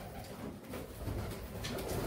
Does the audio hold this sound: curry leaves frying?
no